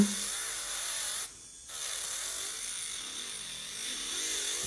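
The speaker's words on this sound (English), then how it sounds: "para qué necesitamos una amiga si tenemos el electric file que nos limpia las uñas" An electric nail file hums steadily while buffing nails, a continuous buzzing drone that cuts out for a moment and then resumes.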